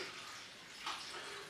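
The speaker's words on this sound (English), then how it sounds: "So I'm going to put the water in," Water pours steadily into a stock pot over vegetables, a continuous hissing splash with a brief surge midway.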